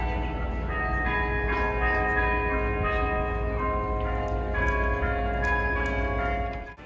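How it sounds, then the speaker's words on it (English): Church bells ring continuously in Cobh, Ireland, with overlapping, sustained tones, fairly loud and steady throughout, no voices. "this pretty background sound of the church bells"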